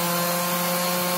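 A steady, loud power sanding tool whirs and rasps continuously up close on a polymer clay pendant, with a constant hum and gritty buzzing across the whole moment.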